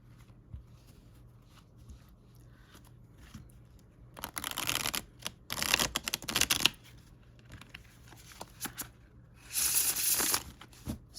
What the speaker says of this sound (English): So the nice thing about the Llewellyn cardstock is how well it riffle shuffles.